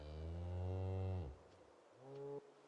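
A cow in Project Zomboid gives a long, loud, deep moo followed after a pause by a shorter second moo, close and clear with no talk over it.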